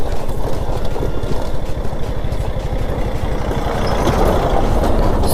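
A heavy vehicle's engine rumbles nearby with a low, pulsing throb as it approaches on a rough road under construction, steady and fairly loud with some background clatter.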